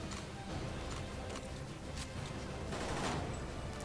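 Faint, distant rattling gunfire in the shooter game Necrovision: Lost Company, at a haunted dam, a steady low-level clatter of rapid shots with a few slightly stronger bursts.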